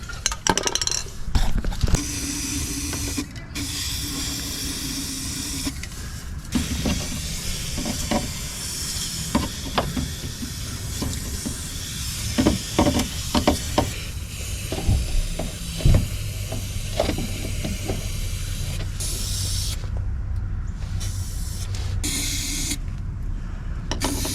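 Rust reformer primer sprayed onto a rusty Jeep TJ frame: bursts of close, hissing spray broken by short pauses and scattered clicks and taps, with no voices.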